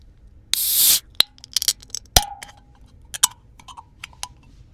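A can of Arizona drink is cracked open with a sharp pop and a loud, short fizzing hiss, followed by scattered small clicks and taps nearby.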